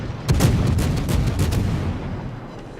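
Warship guns firing in the naval video game World of Warships: a cluster of deep, rumbling booms in quick succession that fade into a sustained low roar, with no talk over them.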